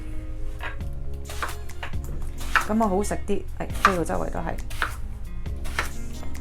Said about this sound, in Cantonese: 咁冬瓜我中意切大少少咯